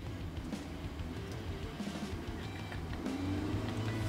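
A car engine revving in neutral, a steady low drone that swells louder and higher toward the end.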